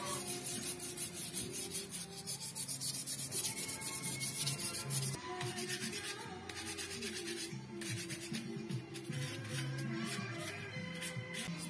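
An electric fan motor's dirty armature is rubbed clean with fine abrasive, giving a steady, close scratchy rubbing with rhythmic strokes throughout.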